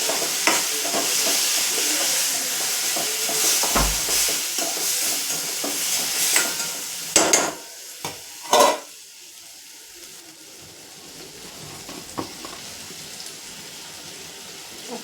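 Bitter gourd and tomato fry in a pan with a steady close sizzle, broken by a few sharp clatters of stirring or utensil knocks, and no talk.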